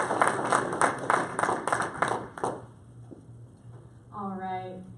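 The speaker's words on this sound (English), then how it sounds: "Big hand, a round of applause for her tonight" Audience at a book launch applauds the MC, a dense burst of clapping that fades after about two and a half seconds, followed by a voice speaking over low room hum.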